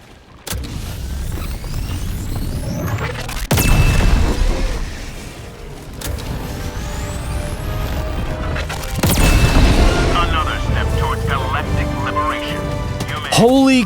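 In Helldivers 2, Quasar cannon shots hit a Bile Titan. There are several loud, booming blasts spaced a few seconds apart, with crashing impacts and rumbling battle noise between them.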